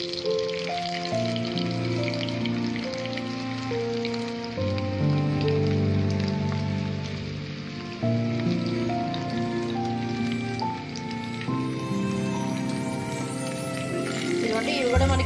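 Chicken pieces sizzle steadily in a frying pan with a continuous crackling hiss, partly buried under music playing throughout.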